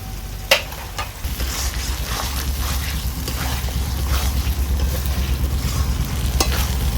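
Chicken sautés with poppy seed and cashew paste in a pan, heard as a loud, close sizzle mixed with repeated spatula scrapes and stirring, opening with a sharp clink.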